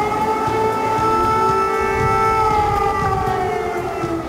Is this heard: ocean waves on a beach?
no